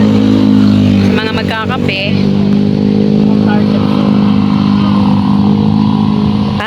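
Steady roar of cars and motorcycles passing close by on a busy mountain highway outside a roadside cafe, engine drone and revs running throughout, with people talking over it near the start.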